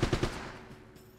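Rapid gunfire in the PS3 video game Uncharted, a short burst of three quick shots close up, then fading into a low reverberant tail.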